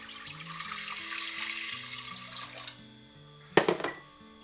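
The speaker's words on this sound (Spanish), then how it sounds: "Añadimos más agua a la olla" Water poured into a pot while making Andalusian gazpacho, a soft steady splashing stream for a few seconds, followed by a brief louder clatter near the end.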